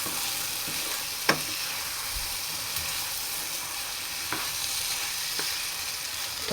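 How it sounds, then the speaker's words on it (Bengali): Kadai chicken sautéing with whole green chilies in a pan, a steady close hiss of frying with occasional sharp spatula taps and scrapes, no voices. "এটাকে আমি খুব ভালো করে কষাবো"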